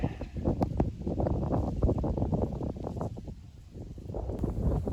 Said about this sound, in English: This wind is not great.